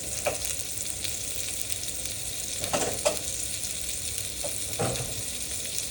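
Potatoes sautéing in oil in a pan, crisping after being seasoned: a steady broadband sizzle throughout with a few sharp scraping stirs of a utensil, no voices.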